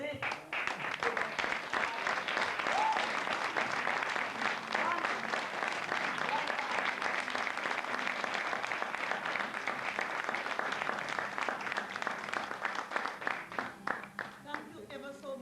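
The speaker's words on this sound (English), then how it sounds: "can we give Michael a clap?" An audience claps for Michael McMillan at The Albany in Deptford, a long, steady round of applause from many hands lasting about fifteen seconds, with some voices underneath.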